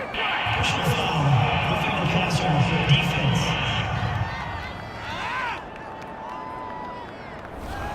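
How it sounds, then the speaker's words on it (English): A large stadium crowd at a professional American football game roars and boos in a sustained swell after a penalty call, loud and continuous for several seconds before easing into a lower murmur of noise. "Well, this crowd does not like that call."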